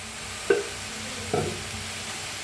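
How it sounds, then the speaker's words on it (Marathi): Tender field beans (ghevda) roast in a little oil in a pan with a steady, soft sizzle, punctuated by two distinct clinks of a stirring utensil. "तर थोडंसं तेल वतून भाजून घेऊया"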